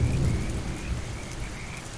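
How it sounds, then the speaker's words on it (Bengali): Steady rain falling outdoors near a roadside tea stall, a continuous broadband patter with low rumbling underneath, even and unbroken throughout, with no voices. "আবার কোথা থেকে বৃষ্টি আরম্ভ হলো।"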